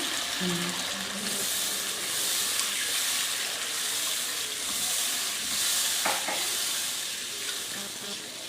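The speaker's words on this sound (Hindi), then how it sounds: "अब हमने इसमें ये कोकोनट मिल्क भी ऐड कर देना।" Chicken moilee masala cooks in a pan after coconut milk is added, a steady broad sizzle and bubbling hiss that runs throughout with a faint scrape partway.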